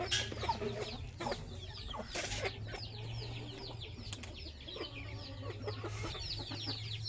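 Rooster and hens of the Parla breed, shown for sale, cluck and call repeatedly close by, with a steady low background hum and occasional wing flutters.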